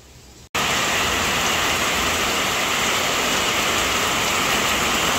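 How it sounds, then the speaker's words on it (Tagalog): Heavy rain pours down steadily and loudly as a dense, continuous hiss that starts abruptly after a brief quieter moment and then holds evenly throughout. "Maulan."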